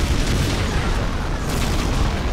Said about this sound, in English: Fucking fast rockets.